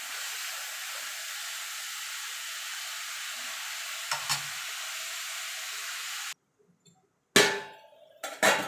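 Ash gourd pieces fry in a pan with a steady hiss and a couple of soft stirring scrapes, then the sound cuts to near silence, followed by a few sharp clattering knocks, likely a lid going on.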